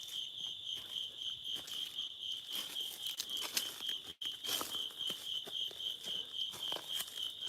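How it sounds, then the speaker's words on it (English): Crickets chirp at night in the woods along a forest trail, a constant high steady trill ringing alone and fairly faint over soft rustling and scattered footsteps, with one brief dropout midway. "You can hear the sound of the crickets."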